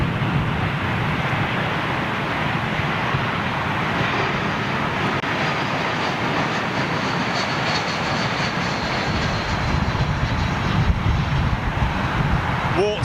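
A Boeing 737 jet departs London Heathrow, its engine roar a loud, continuous broadband rumble heard from a distance and holding steady throughout.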